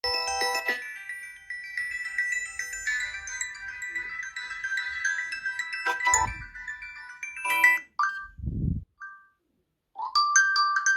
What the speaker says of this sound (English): Branded ringtones, pixel, pleasant, high quality like this.